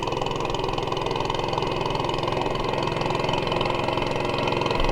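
An outboard motor drones steadily on the Mekong River in Laos near the 4000 Islands, a loud continuous engine hum with an even throbbing pulse and no pauses.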